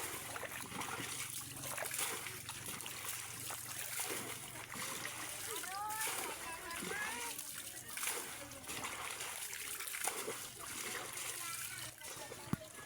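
Water splashes and sloshes repeatedly while floodwater is bailed out of a flooded area by hand, steady close splashing with intermittent trickles and a voice speaking faintly underneath.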